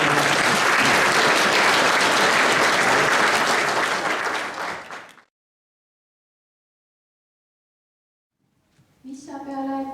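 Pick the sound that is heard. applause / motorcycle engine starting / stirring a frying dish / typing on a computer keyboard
applause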